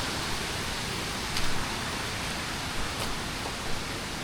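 Rain-fed stream water flows along a forest trail by the Aberdeen reservoirs in Hong Kong, a dense, continuous close-up rushing hiss with a few slight surges and no voices.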